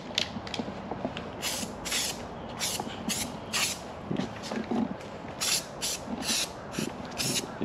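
Short hissing bursts from a spray can of paint come in repeated spurts, close by and moderately loud, mixed with faint creaks and mechanical clicks.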